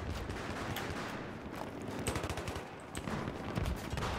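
Rapid, sustained automatic gunfire crackles continuously at moderate distance in the Battlefield 3 video game, dense overlapping shots with no voices.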